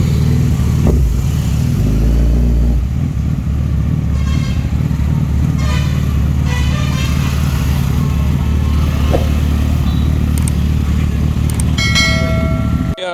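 Suzuki motorcycles, including a V-Strom 650, idle and rev nearby during a group ride stop, a steady loud engine drone with brief horn toots and bell-like tones.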